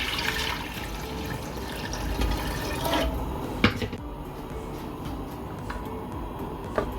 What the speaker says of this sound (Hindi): मैंने इसमें 1 लीटर पानी डाल दिया।